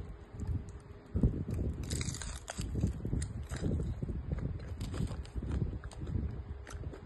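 Someone crunches into a crispy Mexican taco with grilled onions and orange pepper and keeps chewing, giving a loud bite followed by a steady stream of close, crackling crunches.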